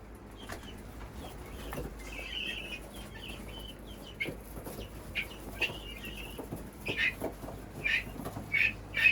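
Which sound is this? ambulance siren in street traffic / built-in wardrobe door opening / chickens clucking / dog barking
chickens clucking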